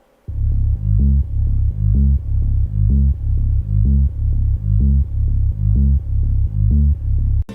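A deep bass made with the Serum software synth plays a repeating, pulsing pattern of short notes, looping steadily and loud with no other sounds.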